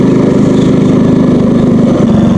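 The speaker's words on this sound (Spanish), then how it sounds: "Iban tres en una moto y digo, wow, ¿cómo se la banca esa moto?" Honda C90 Econo motorcycle engine labouring with three riders aboard on a street in Izamal, Mexico, a loud close putter with a rapid steady pulse and no voices.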